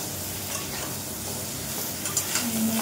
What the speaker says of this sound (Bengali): সবজিটা একটু কষিয়ে নিই।